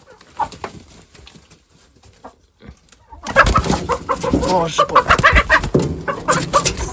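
A crested chicken chick cries loudly and persistently in a farmyard, shrill calls dense and continuous after a quieter start with a few faint sounds, while a person speaks briefly.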